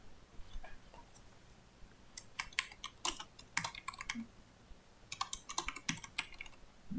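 Code being typed into Notepad on a Windows 10 computer keyboard, irregular bursts of close, crisp key clicks with short pauses between them.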